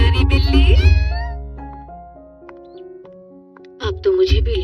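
A small cute cartoon cat in a Hindi-dubbed Doraemon episode gives loud, tonal meows with rising and falling pitch at the start and again near the end, with a quieter stretch between.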